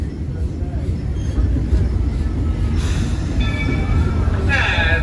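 Walt Disney World Railroad train rolling into Main Street Station, a loud, steady rumble of wheels and carriages with squealing metal as it slows, while a voice announces over the noise.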